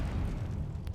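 The Incendio fire spell in Hogwarts Legacy on PS5 produces a dense, rumbling whoosh of flame that fills the whole short moment at a steady, close, moderately loud level.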